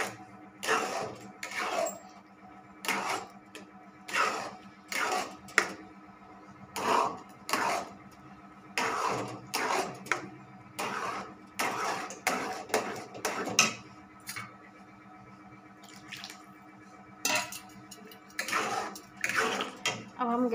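Semolina halwa mix being stirred in a pan with a spoon, a repeated scraping and clinking rhythm of about one stroke per second, close and fairly quiet, continuing steadily.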